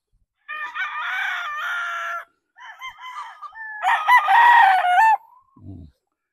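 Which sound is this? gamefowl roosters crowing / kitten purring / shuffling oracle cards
gamefowl roosters crowing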